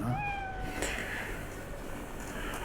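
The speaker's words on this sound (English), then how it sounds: "I hear it. Oh, there it is. Pet cat." A cat meows in Cyberpunk 2077, giving one clear, drawn-out meow near the start, then quieter ambient background sound.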